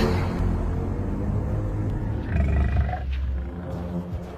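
A lion roars in the 2024 film Prey, set in the African desert, a deep, loud, sustained growling roar that swells midway before trailing off.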